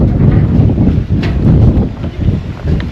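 Gusts of wind buffet a microphone outdoors on a roadside, a loud rumbling low roar that swells and dips in uneven waves throughout.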